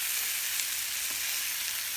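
Steady close sizzling of quail pan-frying, not deep-fried, on medium-to-low heat, a continuous bright hiss with no talking.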